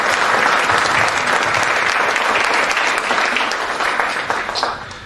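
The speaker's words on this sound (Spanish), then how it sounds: "Recibámoslo con un aplauso," An audience at a forum on metropolitan governance welcomes a speaker with loud, dense applause from many hands, steady at first and then gradually thinning and fading toward the end, without voices.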